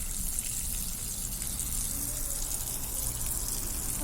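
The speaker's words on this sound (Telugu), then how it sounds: "నీళ్ళు చూడు అటు పడుతున్నాడు." Water pours and splashes steadily at a temple trip stop near Kalahasti, a continuous gushing rush like water falling from a tap or spout, close and fairly loud with no voices over it.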